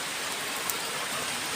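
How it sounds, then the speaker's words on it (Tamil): Summer rain falling steadily on a village, a dense even hiss of drops without pause or other sounds. "எங்கள் ஊரில் மழை,"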